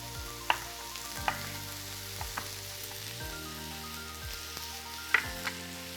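Onions and vegetables for ratatouille cooking in a pan, a soft, even sizzle with a few sharp clinks of a utensil spaced out over several seconds, close and moderately quiet, no talk.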